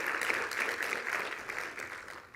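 An audience at a gallery talk about an installation of coloured sand claps steadily and fairly softly, a short burst of applause with no voices over it.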